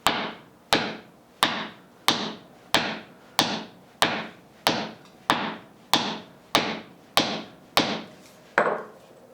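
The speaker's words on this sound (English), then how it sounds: "I could sit here with a 10-pound sledgehammer and just pound on my foot" A 10-pound sledgehammer pounds on a shoe worn on a foot, striking about fourteen times in a slow, even rhythm, each blow a loud, close, hard thud standing alone.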